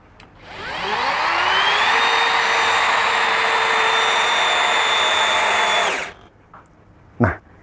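A Milwaukee M12 impact drill spins up at full trigger and whines steadily for about five seconds, its pitch rising as it reaches speed, then cuts off abruptly, followed by a brief sharp click.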